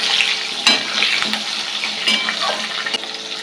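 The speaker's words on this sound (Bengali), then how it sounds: "পেঁয়াজটা ভাজা হয়ে গেল" Whole onions sizzle and crackle in a hot pan as they are stirred, with brief scraping knocks from the spoon over a constant close frying hiss and no voices.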